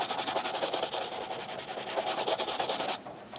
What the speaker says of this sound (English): So I'm going to brush on some wax now that we've put some on with a cloth